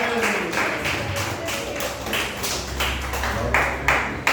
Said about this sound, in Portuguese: as palmas que glorificam o nome do Senhor